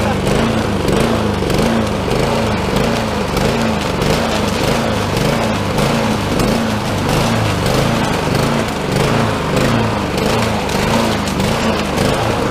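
A lawn mower engine runs steadily and loudly up close, its rough, throbbing drone continuing without a break from start to finish.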